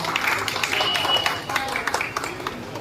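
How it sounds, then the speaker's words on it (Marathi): A crowd of devotees applauds at a Ganesh aarti ceremony in an industrial area, a dense steady patter of many hands clapping throughout, with a person speaking over it. "टाळ्यांचा जोरात आवाज करायचा आहे"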